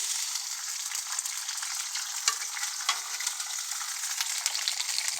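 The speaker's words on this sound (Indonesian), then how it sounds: "bahan sambalnya lombok, terasi, tomat dan bawang merah kita gongso juga" Chili, shrimp paste, tomato and shallots stir-frying for sambal give a steady, close hiss of sizzling oil with scattered crackles and a few scraping stirs, heard alone without talk.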